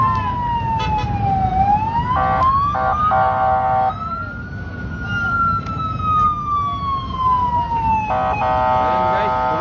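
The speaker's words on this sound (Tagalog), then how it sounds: "Sunod-sunod na ang bumbero dumarating." Loud wailing sirens sweep up and down close by, with bursts of rapid yelping tones layered over steady traffic rumble.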